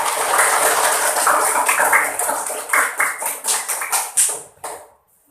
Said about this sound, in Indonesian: Tepuk tangan untuk Pia